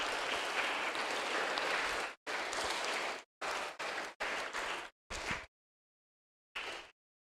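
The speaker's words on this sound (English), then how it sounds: "Give them a round of applause." An audience applauds a student group's project presentation at an upper secondary school, a steady burst of clapping that cuts in and out in several chunks before falling silent.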